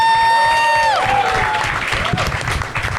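Studio audience clapping for the episode winner on a Marathi comedy show, a dense burst of applause rising beneath a fading electronic jingle, loud and close, with a few voices mixed in.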